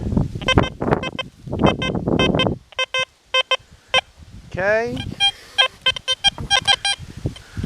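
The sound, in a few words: metal detector signal tone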